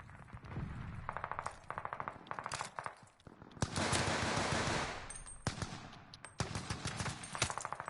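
Automatic gunfire in Call of Duty: Vanguard on the Champion Hill map, with bullets punching through wood, plaster and sheet metal walls in repeated rapid bursts and a dense, sustained volley in the middle, loud and close.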